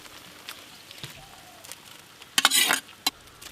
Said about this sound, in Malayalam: ഇതാണ് ഇതിൻ്റെ താളിച്ചൊഴിക്കുന്നത് കേട്ടോ.